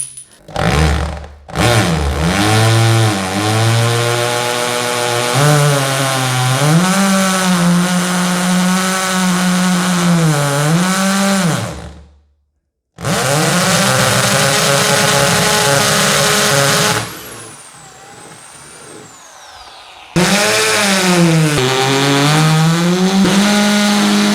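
Power drill bores four holes for a topbox mount on a Benelli TRK 502 X motorcycle, a loud, close, continuous whine that bogs and climbs in pitch, stopping briefly between holes.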